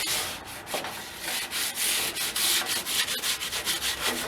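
A Craftsman 22-inch hedge trimmer blade being rubbed with wet/dry sandpaper, a steady back-and-forth scraping in quick repeated strokes, close and fairly loud, with no voices.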